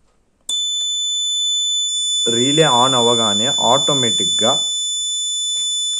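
An Arduino Uno relay board buzzer lets out a steady high-pitched tone that starts abruptly and holds unbroken throughout, with a person speaking over it partway through.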